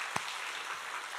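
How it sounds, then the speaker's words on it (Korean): A church congregation at an early-morning prayer service claps together, a faint, even patter of applause over a short stretch, with one sharper clap standing out near the start. "우리 다시 한번 박수하겠습니다"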